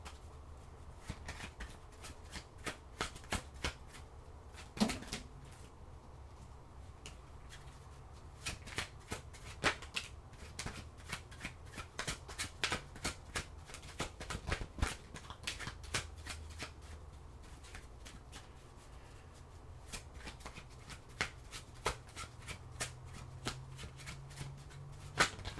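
Tarot cards shuffled steadily for about 25 seconds, a dense, close run of soft riffling flicks and snaps with no voices.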